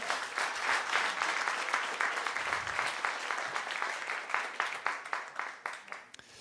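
Audience applause at an awards ceremony, a full round of clapping from the crowd that gradually thins into separate claps and fades out at the end.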